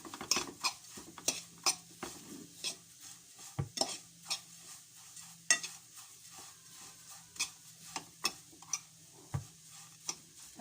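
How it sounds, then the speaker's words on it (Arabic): Kunafa and phyllo dough being stirred in a pan, with repeated scraping and clinking of a utensil against the metal at an irregular, brisk rhythm and a faint sizzle underneath, close by. "نقلب الجلاش بالكنافة لغاية ما ناخد اللون."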